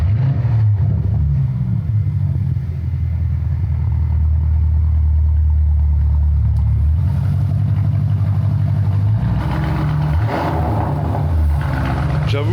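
A Lamborghini Urus with a Novitec tune starting up and revving, its deep engine rumble loud and close throughout, rising near the end with a few throttle blips, with a brief voice barely audible underneath.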